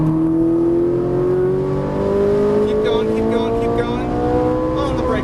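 A Ferrari 458 Italia engine on a racetrack pulls steadily upward in pitch under acceleration, loud and close, with a faint squeal of tyres late on.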